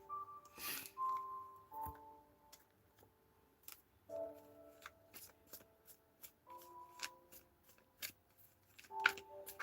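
Tarot cards being shuffled in repeated quick riffles and soft slaps, close and fairly quiet, with faint tonal chimes or ringing in the background and no talk.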